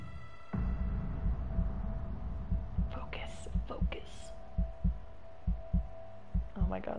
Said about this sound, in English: Oh my God, the heartbeat.